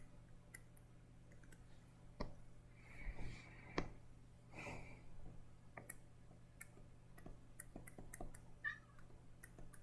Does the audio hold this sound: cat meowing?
yes